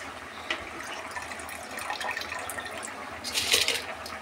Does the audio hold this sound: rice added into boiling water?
yes